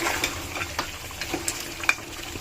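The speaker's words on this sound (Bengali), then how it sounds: "এদিকে কষানো হয়ে গেছে, আরও কিছুক্ষণ কষাই, তারপরে পানি দিয়ে দেব।" Whole and ground spices for a curry hiss and sizzle softly in a hot pan, with faint scraping stirs and small crackling pops spaced irregularly, fairly quiet and close with no talking.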